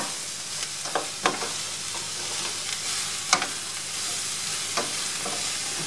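A sizzling bed of colourful vegetables fries in a slightly too-small pan for a Gracie diet Monterey Jack cheese pot, with a spoon scraping and stirring in several sharp, irregular strokes close by.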